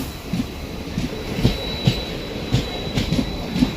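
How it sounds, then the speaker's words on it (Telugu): A passenger train hauled by a diesel engine at a station platform, with a steady rumbling drone overlaid by repeated rhythmic wheel clacks and thumps and a faint high squeal, fairly close and loud. "డీజిల్ ఇంజన్ అయితే తగిలించినారు."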